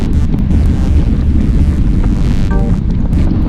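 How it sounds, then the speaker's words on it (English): Steady wind roars across the microphone on an exposed road during a group bike ride, a constant low buffeting rush that covers the whole stretch with no talking. "There's a slight wind today."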